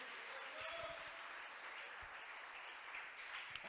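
A church congregation offers applause to God during a Spanish-language service. Steady, faint clapping from a crowd sounds distant and carries evenly, with no voice above it.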